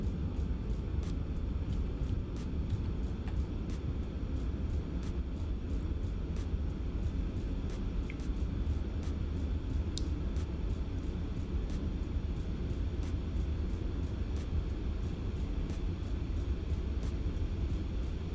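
A Boeing 737-800 airliner flies in the X-Plane 12 flight simulator, a steady, even engine roar filling the cabin with broadband rumble and faint periodic clicks, with no talk over it.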